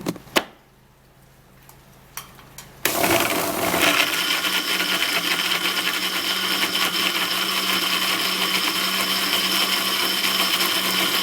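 A blender blending a sauce starts abruptly after a few scattered knocks and clicks, then runs as a loud, steady whirring roar without a break.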